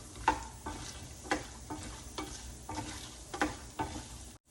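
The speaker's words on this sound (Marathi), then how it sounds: "यात आपण एक चमचा उडदाची डाळ घालणार आहोत पांढरीची हुडक्याची डाळ असते ती घालायची आणि हे पण परतून घेऊया" A spoonful of urad dal is fried and stirred in a pan with roasted peanuts for a bottle gourd peel chutney. Rhythmic scraping strokes about once a second ride over a soft, steady sizzle.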